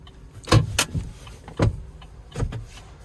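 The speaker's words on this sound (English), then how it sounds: "I have to scoot the seat back" Inside a single-cab 2026 Chevy Silverado 1500 WT, the driver seat is pushed back with a few close mechanical thumps and clunks, two or three separate knocks over a quiet cabin.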